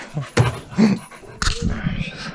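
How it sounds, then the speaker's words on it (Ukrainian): An active dog whimpering and yipping while waiting for water, short high whines and a few panting bursts close by, with brief human voice sounds mixed in. "Дуже активна собака"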